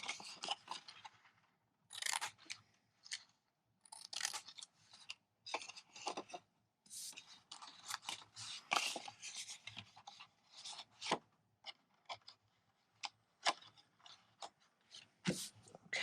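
Paper rectangle being cut with scissors while making a tassel box, a series of short crisp snips and rustles with pauses between, close and fairly quiet, with no talking.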